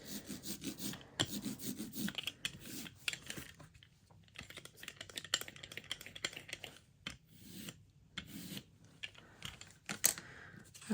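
A brayer rolls ink across a surface for card making, giving soft rasping strokes that repeat in bursts with pauses, quiet and close.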